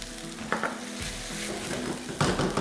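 Cumin, garlic and ginger fry in a pan for a bacon stir fry, giving a steady close sizzle broken by a few scraping stirs.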